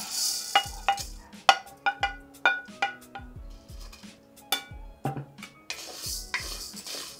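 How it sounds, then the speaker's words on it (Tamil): Urad dal dry roasting in a pan, stirred with a spoon: repeated irregular scrapes and clinks against the metal over a faint low hum, close and fairly loud, no voices. "இப்போ நம்ம உளுந்து வறுத்துக்கலாம்."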